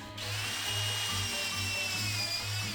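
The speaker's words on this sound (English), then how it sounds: "I still needed to drill more pocket holes" A power drill bores pocket holes in wood for a minivan bed build, a steady close whine running without a break, with the motor note swelling and dipping in a slow rhythm.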